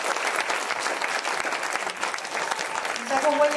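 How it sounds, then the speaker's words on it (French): Steady, dense applause from an audience at a cabaret evening fills the whole stretch, loud and continuous, with a brief voice surfacing near the end. "On peut les applaudir très fort."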